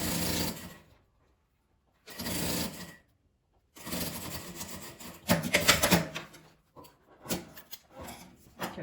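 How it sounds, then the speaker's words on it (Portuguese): A sewing machine stitches a fabric lining in several short bursts of fast mechanical whirring separated by pauses, close and fairly loud, with no talking. "E vou costurar ele aqui."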